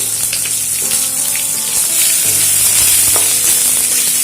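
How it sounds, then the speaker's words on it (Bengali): Ground cumin, coriander, chilli powder and sugar sizzle together in a hot pan for a vegetarian banana-flower dish, a steady frying hiss with a few scraping stirs, close and loud, no voices. "সব কিছু একসঙ্গে ভালো করে মিশিয়ে একটু ভেজে নিচ্ছি"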